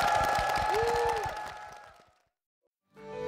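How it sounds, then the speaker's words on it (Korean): Church congregation applauding in a sanctuary, a dense burst of clapping with some cheering that fades out over about two seconds, then a pause before a new sound begins. "주님께 큰 영광의 박수를 드리겠습니다."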